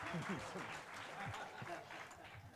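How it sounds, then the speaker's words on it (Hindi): A crowd at a Hindi poetry recital applauds a guest with continuous, fairly faint clapping, while low voices murmur underneath. "एक बार सर्वेश भाई के लिए बहुत मन से तालियां देना।"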